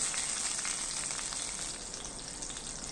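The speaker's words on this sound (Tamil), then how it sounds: "இது எல்லாத்தையுமே நல்லா பொரிய விட்டுட்டு அதுக்கப்புறமா நம்ம பச்சை மிளகாய் சேர்த்துக்கலாம்" Cardamom, cinnamon and slit green chillies fry in hot oil for a chana masala, giving a steady, close, loud sizzling hiss that runs evenly throughout with no voices.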